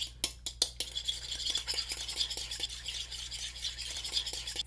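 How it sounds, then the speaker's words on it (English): Eggs whisked in a bowl into an egg wash for eggplant parmesan: a few sharp utensil clinks open, then a steady, quick rhythm of stirring and tapping continues close by. "You'll be mixing up the eggs into what is called an egg wash."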